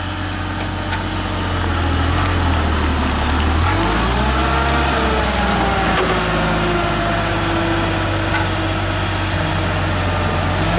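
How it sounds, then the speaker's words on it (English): A Chevy V6 engine in a Hyster H100E 10,000 lb pneumatic-tire forklift runs steadily at close range, a loud idle that briefly revs up and settles back, with a deep continuous hum and no talking. "Chevy V6 engine."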